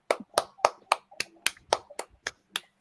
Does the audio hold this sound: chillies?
no